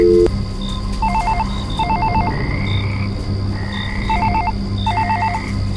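A telephone number is keyed in as a series of quick touch-tone digit bursts in a few groups, while frogs croak steadily in the night background.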